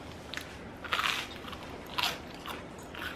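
Someone bites and chews avocado on toast up close, with crisp crunches in short bursts about a second apart over quiet background.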